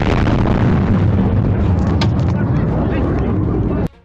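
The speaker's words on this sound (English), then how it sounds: "Dysfunctional Russian rocket." A malfunctioning Russian rocket explodes in a loud, sustained, rumbling roar that lasts about four seconds, then cuts off abruptly to near silence.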